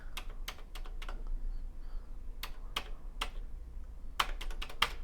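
Commodore 64 keyboard keys pressed, including the slash key: scattered sharp plastic clicks, single and in quick clusters, close and crisp against a faint steady hum.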